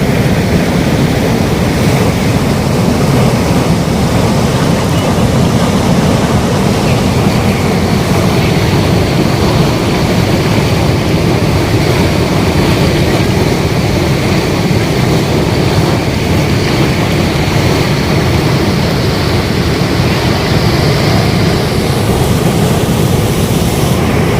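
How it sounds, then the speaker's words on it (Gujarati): Cameron Falls, a waterfall in Canada, pours in a steady, loud broadband roar with constant splashing rush throughout, close and unbroken, with no voices over it. "હવે નિશબ્દ માત્ર ધોધ કુદરતી સંગીત સાંભળીશું"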